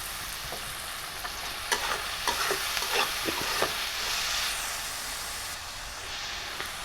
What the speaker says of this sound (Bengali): এখন এখানে আমি দিয়ে দিচ্ছি পেঁয়াজ কলিগুলো